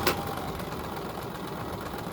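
A home sewing machine stitches fabric on a shaky coffee table, giving a steady, close mechanical whir with an even rhythm and no pauses.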